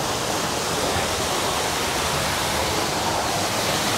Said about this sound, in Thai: นี่มีน้ำตกด้วย